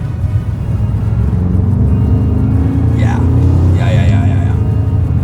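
A Maserati Ghibli Trofeo's engine rumbles and revs steadily while the car is driven, a deep constant drone beneath someone talking over it.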